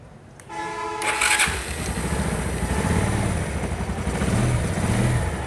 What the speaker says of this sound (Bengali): বাইকটা এখন আমরা স্টার্ট দিব।